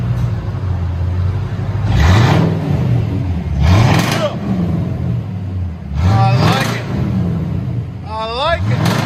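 A Chevy Caprice with a 5.7L V8 and loud aftermarket exhaust revs hard in about four separate bursts, each climbing and falling back to a rumbling idle, close and loud.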